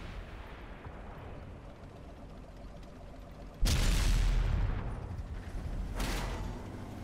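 Tank cannon fire in a video game: two heavy booming shots a couple of seconds apart, loud and sudden against a quiet low background rumble, with no talking.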